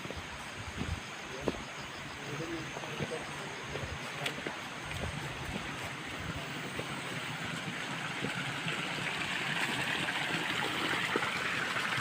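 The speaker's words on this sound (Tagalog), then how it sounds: "tubig ito" A forest river runs over large rocks, giving a steady broadband rush of flowing water that holds at a fairly even level throughout with no voices over it.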